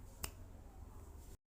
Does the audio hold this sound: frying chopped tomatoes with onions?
no